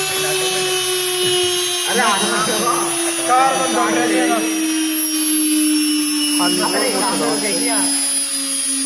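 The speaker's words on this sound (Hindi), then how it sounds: "अभी भी मोटर चल रही है बिना करंट के भी" An electric motor keeps running with a steady, close whine and hum in an ITI electrician practical workshop, while someone talks over it in bursts.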